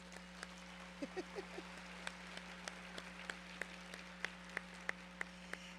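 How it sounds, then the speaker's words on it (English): Sparse audience applause in a theater, a few distinct hand claps spaced irregularly and growing slightly more regular, faint and distant over a steady electrical hum. "how about a round of applause for our piano man, Otis Davenport?"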